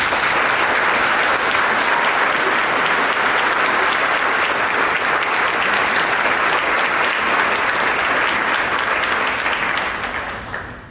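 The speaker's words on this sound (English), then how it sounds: "Please give them a round of applause." Sustained audience applause at a 2019 Nashville School of Law commencement for newly named graduates, broad even clapping from a large hall that holds steady before fading away at the end.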